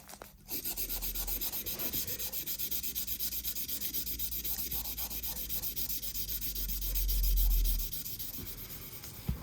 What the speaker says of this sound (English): we'll get at it with the very light grit wet and dry sandpaper